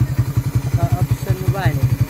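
A Suzuki Raider 150 motorcycle with its stock exhaust pipe idling close by, a rapid, even putter of exhaust pulses, with a person talking briefly over it.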